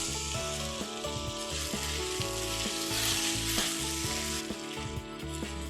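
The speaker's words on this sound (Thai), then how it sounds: "แล้วก็ใส่ สีลงไปค่ะก็กวนเลย" Sticky rice tinted with butterfly pea colouring is stirred in a pan for a two-colour Thai dessert, giving a steady broadband sizzle with soft scraping strokes under continuous background music.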